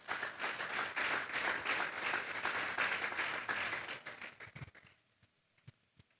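Church congregation at a youth service clapping loudly together for several seconds, then tapering off into a few scattered claps and quiet.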